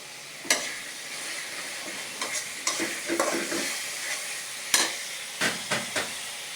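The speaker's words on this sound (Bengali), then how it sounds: "মশলাটা কষাই নিই।" Spice masala frying in a pan, a broad hiss of sizzling oil with occasional sharp scrapes and knocks from a spatula being stirred through it, close, no one speaking.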